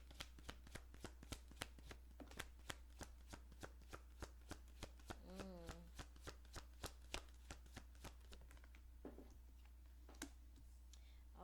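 Tarot cards are shuffled in a steady, even rhythm of crisp riffling taps, soft and close, repeating throughout with a brief low murmur partway through.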